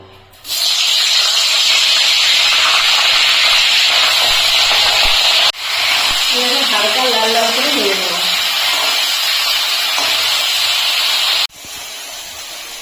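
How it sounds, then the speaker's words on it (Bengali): Cauliflower pieces fry in hot oil in a wok, a loud, steady close sizzle and hiss that runs almost throughout with two brief breaks, a voice heard briefly over it. "আমি কড়াইতে তেল গরম করতে বসিয়েছি এখন আমি ফুলকপিগুলো ভেজে নেবো"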